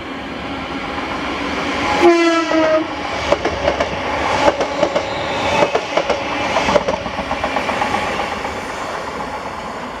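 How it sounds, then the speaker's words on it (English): A ScotRail passenger train, the Glasgow Central to Ayr service, stands at Paisley Gilmour Street station; a short horn blast sounds near the start, followed by rhythmic clicks and clunks of wheels and coaches close by. "Then this is 1K33, the 1410 ScotRail service to Ayr from Glasgow Central."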